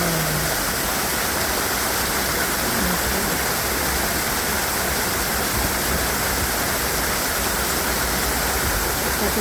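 Clear water from a stream flows in a steady, loud, dense rush of broadband noise with no breaks, while a voice faintly speaks beneath it.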